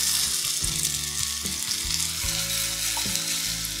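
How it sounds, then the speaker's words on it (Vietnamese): Washed, drained rice stir-fried in a pan with golden fried shallots and garlic for cooked rice, giving a loud, steady sizzle with occasional scraping stirs and knocks throughout. "Gạo này thì các bạn xào tầm khoảng 1 phút là được nhé."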